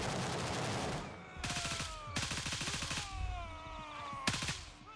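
Gunfire in a video game at Fort Narith: several rapid automatic bursts with sharp repeated cracks, separated by brief pauses and carried over steady background ambience.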